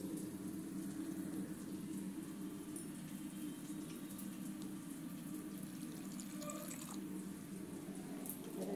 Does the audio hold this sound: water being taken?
yes